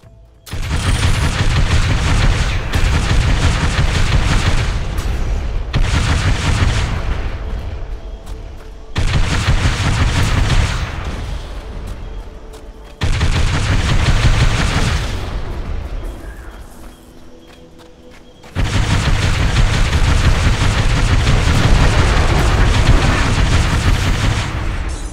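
Loud gunfire and explosions as power cores are destroyed in the Halo: Spartan Strike video game, coming in long dense bursts of blasts separated by brief quieter gaps.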